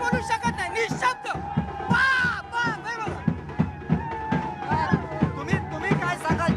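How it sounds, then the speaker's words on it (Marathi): Celebrating crowd at Shivaji Park after a cricket match win, a dense roar of cheers, shouts and babble with rhythmic beats and claps, loud and continuous throughout. "शिवाजी पार्क या ठिकाणी अशा पद्धतीचा उत्साह आणि हा जल्लोष आपल्याला पाहायला मिळतोय"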